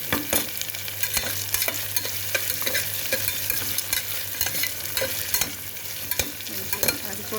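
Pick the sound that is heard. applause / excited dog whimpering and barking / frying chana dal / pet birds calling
frying chana dal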